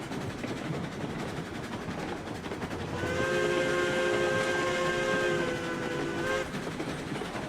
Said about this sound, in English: I'm pretty happy with this whistle. I think it sounds good.